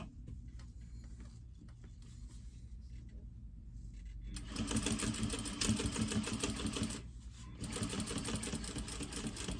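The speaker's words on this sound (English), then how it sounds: "Now we're going to stitch along that line" Sewing machine stitching a seam along a marked line on a tote bag corner, a quieter start then steady loud machine running with a brief pause before resuming, no talk.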